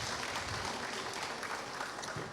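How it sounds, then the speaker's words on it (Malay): Audience applause for a three-person panel at a public forum, a dense, steady wash of clapping that is fairly faint and continuous for a couple of seconds. "Ayuh sekali lagi kita berikan tepukan paling gemuruh kepada ketiga-tiga panel."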